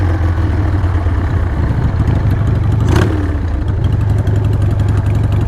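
A 1996 Harley-Davidson Sportster 1200 motorcycle engine idles steadily nearby with a low, throbbing rumble and light mechanical clatter.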